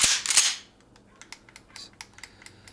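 A Mossberg 500 shotgun has its safety switched and its trigger dry-fired: a quick cluster of sharp, close mechanical clicks, then a scatter of smaller, fainter clicks with no shot.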